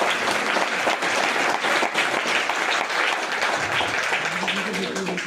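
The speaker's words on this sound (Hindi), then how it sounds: "एक बार ताली तो होना चाहिए ना।" A seminar audience at an RCM business event in Faridabad breaks into loud, continuous applause, many hands clapping at once, with a voice rising faintly beneath the clapping near the end.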